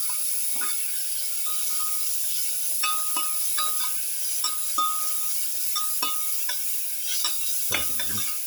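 Tomato garlic pilaf being sautéed and stirred in a pan, with a steady low sizzle underneath and intermittent scraping and clinking strokes of a utensil against the pan, close and moderately loud, no talking.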